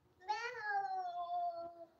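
A human voice imitates a cat's meow with a single drawn-out, falling mew lasting about a second and a half, close and clear with nothing else around it.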